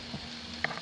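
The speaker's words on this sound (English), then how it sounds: "You can hear the sizzle" Soft, steady sizzling of potatoes frying in olive oil in a cast iron pan, close by, with a brief crackle near the end.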